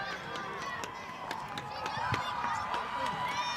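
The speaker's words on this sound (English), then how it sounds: "Very good crowd here tonight." Crowd noise at a high school soccer playoff game in Jacksonville, Texas: a steady murmur of many voices with scattered shouts and footfalls, swelling slightly toward the end, with speech mixed in.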